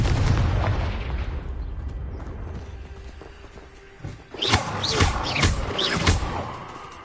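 Confringo, the fiery blasting spell in Hogwarts Legacy: a low rumbling din gives way to a run of several sharp, loud bursts in quick succession.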